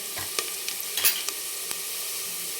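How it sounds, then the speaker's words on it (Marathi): Masala for a mutton rassa curry sautés in a pan with a low, steady sizzle, while a spoon stirs through it, giving scattered light scrapes and taps over the hiss. "आणखी एक काही सेकंद आपण परतून घेणार आहे"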